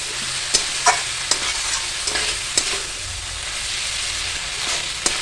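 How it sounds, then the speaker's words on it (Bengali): Kohlrabi curry sautéing in a pan gives a strong, steady hiss of frying oil, with a few sharp spatula taps and scrapes spaced through it and no voices. "এটা এখন একটু কষবো যেহেতু কষা এখনও কমপ্লিট হয়নি তা কষে নিয়ে তারপরে জল দেবো"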